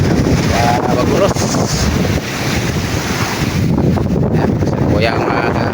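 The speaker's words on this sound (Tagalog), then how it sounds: "Lakas ang amihan." Strong northeast monsoon wind roars across the sea aboard a fishing boat, loud and constant with surf and wind buffeting the microphone, a voice briefly heard underneath.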